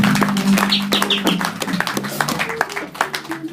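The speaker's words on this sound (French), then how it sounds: "On peut applaudir encore pour la gloire de Jésus-Christ" A church congregation claps in a burst of scattered, uneven applause that starts dense and thins out, the sharp hand claps close and loud, with voices murmuring underneath.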